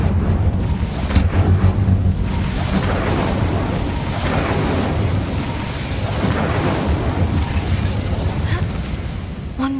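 The Incendio fire spell in Hogwarts Legacy, heard as a long, loud, roaring rush of flame with rumbling low end and a sharper burst early on, continuous and close throughout.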